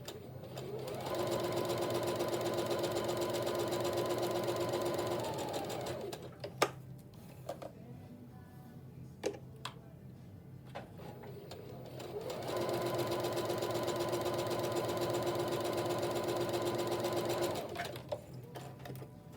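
A sewing machine runs two steady bursts stitching quarter-inch seams on either side of a drawn line on a quilt block, its close hum broken by a pause filled with faint clicks and fabric handling.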